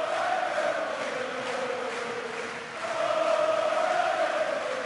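Darts crowd at a German championship quarter-final with Michael van Gerwen on stage, a steady loud mass of voices and chanting that dips briefly midway then swells again, continuous throughout.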